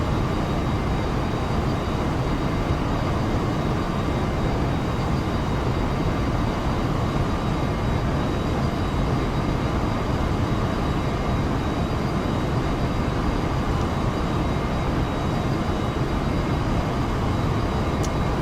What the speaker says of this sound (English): I am flying the 737-800 default airplane